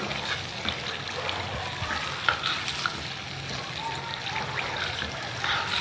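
Makhadi halwa roasting in ghee while a spoon stirs it steadily, a continuous soft frying hiss with scraping strokes against the pan, close and moderately loud, no voices.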